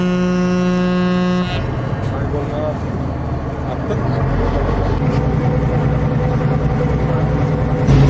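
A car ferry's deep horn blasts loudly for a moment, then cuts off, leaving a rumbling engine drone with a voice speaking over it.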